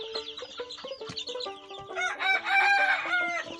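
Tiger breed chicks and chickens cluck and crow close by, with repeated short calls overlapping into a busier, louder burst of crowing toward the end.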